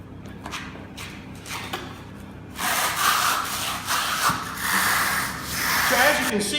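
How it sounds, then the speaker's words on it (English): A trowel scrapes concrete underlayment mix over SpiderLath laid on a wood deck for a stamped overlay, starting as faint intermittent strokes and then becoming louder, continuous rough scraping. "once we've laid our topical layer of SpiderLath down into the actual underlayment mix, we're troweling it directly in"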